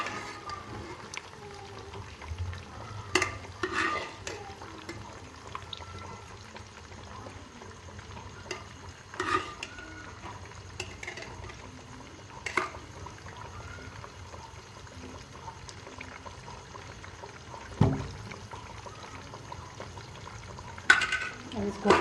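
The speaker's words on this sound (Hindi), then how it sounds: "और इसको फ्राई करेंगे।" Chicken pieces for Shinwari chicken frying in oil in a pan over medium heat, giving a low steady sizzle with scattered louder crackles and pops throughout.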